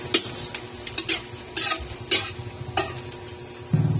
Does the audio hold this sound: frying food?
yes